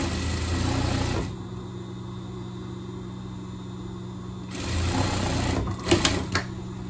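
A sewing machine stitches the side seam of a jacket in a short whirring run, then stops; after a pause it starts again for a shorter burst with a few clicks, close and clear with no talk.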